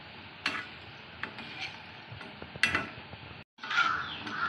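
Potato bites being turned over in hot frying oil, with soft sizzling and a few sharp clinks and scrapes of a utensil against the pan, close and alone.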